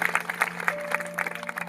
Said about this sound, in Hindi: ताली बजाएं मेरे प्रिय भाइयों।